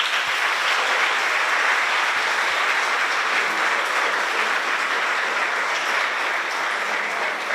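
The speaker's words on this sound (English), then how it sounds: "I think we can give them a round of applause." Steady, dense applause from a school audience at a robotics challenge, honoring the parents who attended; the clapping stays loud and even throughout with no speech over it.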